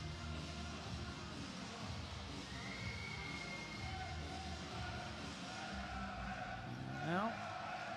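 Basketball arena crowd murmuring and waiting during a referee review in a Basketball Champions League game, a steady, diffuse hum of many voices with scattered calls and a brief squeak near the end.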